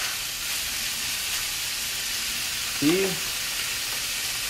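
Beef frying in a pot with a little oil, giving a steady close sizzle and hiss, with a brief voice cutting in partway through.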